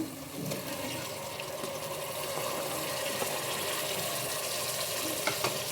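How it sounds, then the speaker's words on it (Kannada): Tomatoes frying in oil in a pan for tomato bath give off a steady, soft, continuous sizzle with an even hiss and no talking. "ಟೊಮೊಟೊ ಚೆನ್ನಾಗಿ ಸಾಫ್ಟ್ ಆಗಬೇಕು. ಸೊ ಅಲ್ಲಿವರೆಗೂ ಸ್ವಲ್ಪ ಎಣ್ಣೆಲೆ ಫ್ರೈ ಮಾಡ್ಕೊಳ್ಳಿ."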